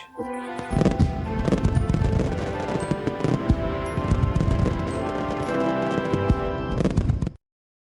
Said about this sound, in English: So come on, Thomas, we can watch the fireworks just as well from here.